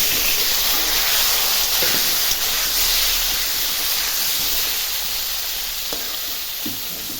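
Potatoes frying in hot oil in a pan give a loud, continuous close sizzle with occasional light stirring clicks and no voices.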